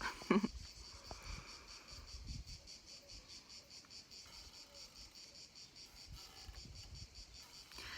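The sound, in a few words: cicadas singing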